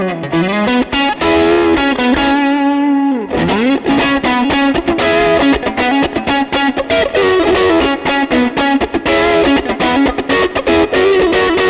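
An electric guitar plays through a Wish.com Klon clone overdrive pedal, giving a loud, continuous driven tone with chords and fast picked notes. A brief held bend comes early on, and no one speaks.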